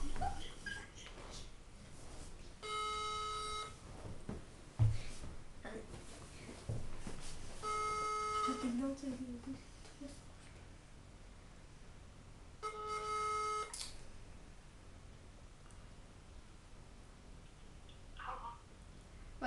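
A phone rings with an incoming call, three evenly spaced electronic ring bursts separated by pauses. Faint background noise and brief movement sounds come between the rings.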